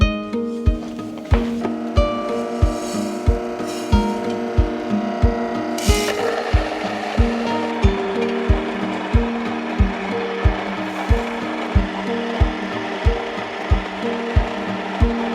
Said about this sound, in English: I'm gonna start off here with grinding some soft white wheat berries